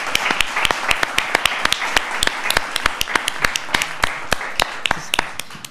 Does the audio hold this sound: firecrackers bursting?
no